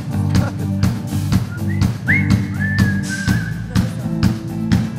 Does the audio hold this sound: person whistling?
yes